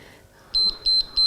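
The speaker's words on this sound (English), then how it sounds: "Let me switch this beeper off." Electronic workout timer beeping at the end of a home cardio-with-weights session, three loud, clean, high-pitched beeps in a steady rhythm after a brief quiet pause.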